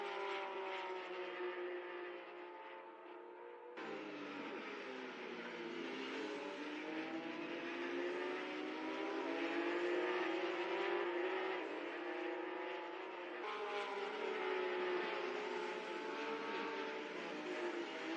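A race car engine in a virtual racing game on the NZ SuperLap circuit, droning steadily as the car leaves the pits on medium tyres, with pitch sweeping up through the gears and no talk over it.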